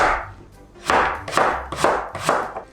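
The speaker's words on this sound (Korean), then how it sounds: "무는 먹기 좋은 크기로 끄벅끄벅 이렇게 좀 먼저 갈라주시고요" A knife chops through radish on a cutting board in a kitchen, five or six firm, close thumps falling in a steady rhythm, alone with no talk.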